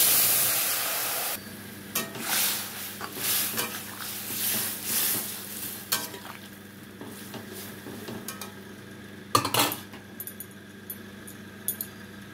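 Spice tempering poured into a wok of potatoes for a potato curry, giving a steady frying sizzle with stirring and clinks of a utensil against the pan, up close with no talking.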